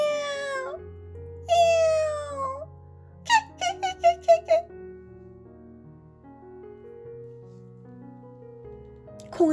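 A cat meows several times in a story setting: two long drawn-out sliding meows, then a quick series of short chirping mews, and a final brief cry, over soft background music.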